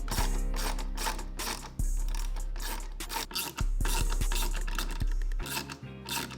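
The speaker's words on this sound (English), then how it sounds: "there is 2 screws on the inside that we're going to take off" Small screws being backed out inside the door mirror housing of an MK8 Volkswagen GTI, with steady close scraping, clicking and ratcheting mechanical noise over a continuous low hum, no talking.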